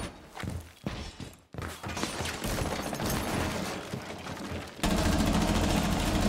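Gunfire from a silenced laser-sight shotgun in Rainbow Six Siege, rapid muffled shots in a burst amid footsteps and mechanical clatter, ending in a louder sustained wash of noise.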